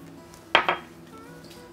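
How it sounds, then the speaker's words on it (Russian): Crushed nuts tipped into a bowl before starch is added, a brief clatter and clink of the bowl around the middle of a mostly quiet moment. "Теперь пересыпаю орехи в миску и сюда к орехам добавляю крахмал."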